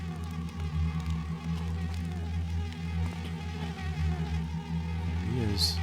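A buzzing insect creature in the stealth game Thief Gold gives off a steady, droning hum that holds for several seconds at moderate volume, with a brief brighter chirp near the end.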